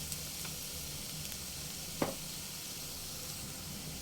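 Sugared polau rice being stirred gently in a pan over a low-medium gas flame, a steady soft sizzle with one brief scrape of the spoon partway through, no voices.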